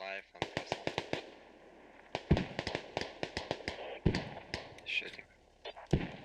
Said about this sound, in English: here come the mortars again